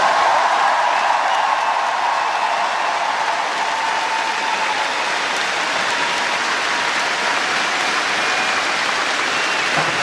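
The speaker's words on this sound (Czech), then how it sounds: "Potlesk pro Věru Čáslavskou" Sustained applause from a large arena crowd at a Sokol gala in Prague's O2 Arena, honouring gymnast Věra Čáslavská; steady, dense clapping fills the whole stretch with no voices over it.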